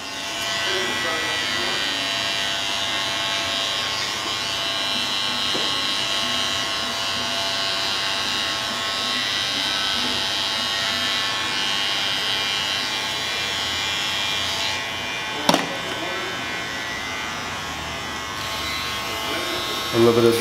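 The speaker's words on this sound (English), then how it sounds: "a little bit of the shaver to make sure the bottom line is steady out of there." An electric barber's shaver buzzes steadily up close for about twenty seconds while cleaning a fade haircut's bottom line, with a sharp click and brief rustling near the end.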